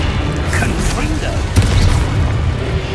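Confringo explosive spell blast from Hogwarts Legacy, a single loud booming burst about midway through, set against a dense bed of game noise and rumble.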